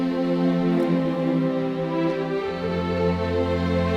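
Layered Audio Imperia Dolce and Nucleus string libraries sound together in a full, even sustained passage, a lower part changing midway, steady moderate level with no talking.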